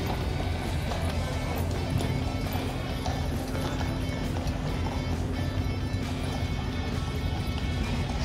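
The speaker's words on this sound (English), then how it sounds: "See the horses that have been waiting here, just standing guard." Horses at the Changing of the Guard in London, their hoofbeats a steady clip-clop blended into a continuous dense outdoor rumble of crowd and traffic, with no clear individual steps standing out.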